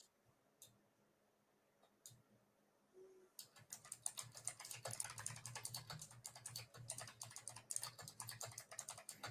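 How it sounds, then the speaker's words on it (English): A loud computer keyboard clacks in rapid, steady typing that starts after a few seconds of near silence and a couple of isolated taps, continuing close and busy to the end. "Sorry, my keyboard's loud."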